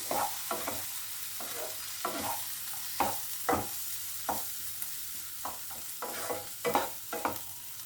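Egg do pyaza masala with Kashmiri chilli powder being stirred in a pan: irregular scraping strokes of a spoon over a soft, steady frying sizzle, close by with no voices.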